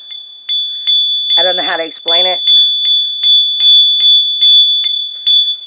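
A small bell used before a Taurus tarot reading is struck repeatedly in a steady, quick rhythm, ringing brightly and close while a person talks over the first strikes.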